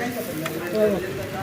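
A Telangana-style instant dosa cooks on a hot pan under a lid, giving a steady soft sizzle with a faint crackle, moderately close, with no voices.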